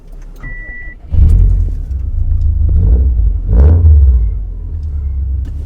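A fully built Subaru WRX STI fires into a deep, loud, close-miked engine rumble, then revs and pulls away with throaty surges that rise and settle as it drives, with no talking over it.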